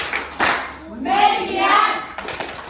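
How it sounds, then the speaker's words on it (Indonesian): A classroom group claps its hands in short bursts, a few sharp claps and then a quick flurry of clapping, with voices mixed in around the claps. "Oke, tepuk tangan."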